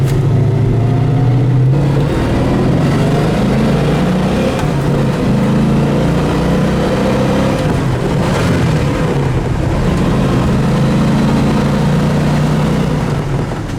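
A 1970 Buick GS 455 engine roars hard under acceleration, its loud low drone climbing in pitch, dropping at shift points around 3,500 RPM and climbing again through the gears.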